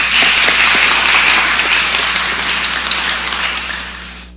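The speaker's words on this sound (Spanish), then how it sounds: "La recibimos con un voto de aplauso." Audience applause welcoming a speaker at an education forum, a dense steady clapping that fills the room for several seconds before tapering off near the end.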